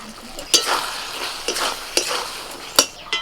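Eggplant curry with rice stirred in a pan after a pinch of garam masala goes in, spoon scraping in several sharp strokes over a soft, steady sizzle, close and fairly loud.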